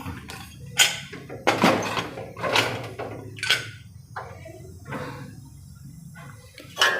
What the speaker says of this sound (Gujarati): હવે એને ઢાંકણ ઢાંકી અને આપણે બંધ કરી દઈશું